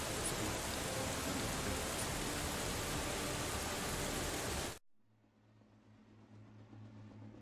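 Heavy rain pouring in the Steins;Gate 0 video game, a dense loud hiss that cuts off abruptly, leaving a faint low hum.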